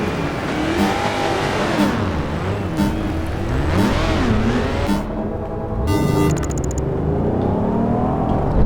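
A race car in Project Gotham Racing 4 revs and accelerates loudly and steadily up close, its engine pitch sweeping up through gear changes, with no talking.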